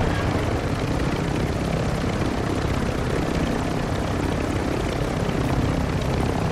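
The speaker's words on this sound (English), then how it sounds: "A high elevation flyby." Aircraft roar during a high-elevation flyby in a video game, a dense, steady broadband engine and rotor-like drone that stays loud and unchanging throughout with no voices.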